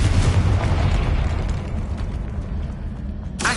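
A Confringo blasting spell explodes in Hogwarts Legacy, giving a loud, deep boom with a rumbling, fading tail and a sharp burst near the end.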